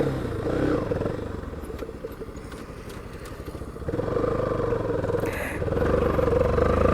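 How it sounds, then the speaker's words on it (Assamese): A Bajaj Pulsar NS 160 motorcycle engine idles close by with a steady low rumble and faint clatter, swelling louder partway through as the throttle picks up, with no talk over it. "ষ্টাৰ্ট দিম বাইক"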